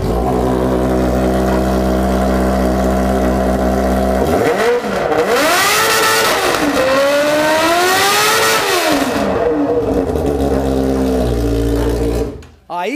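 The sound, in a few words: motorcycle engine revving, Honda Hornet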